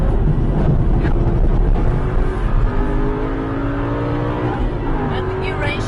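Aston Martin V8 Vantage pulling flat out in second gear through a corner on the Nordschleife, engine loud and rising in pitch from the cabin, with someone talking over it.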